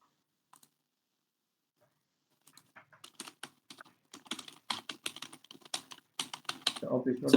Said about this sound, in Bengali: অফিস ওয়ার্ডে ধরো কিছু একটা আমি লিখলাম